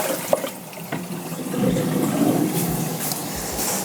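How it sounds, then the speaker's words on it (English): Dirty fish tank water is poured away, a steady broadband rush of liquid that builds after a second and continues loud and close to the end, with no talking. "let me throw this water away because it's quite disgusting now"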